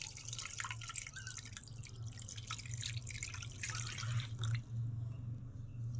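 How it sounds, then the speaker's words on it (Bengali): Hot water is poured over cut pangas fish in a kitchen to wash it, making a faint, steady trickle with light drips under a low hum, ending in a sudden clink. "গরম পানি দিয়ে দিলাম।"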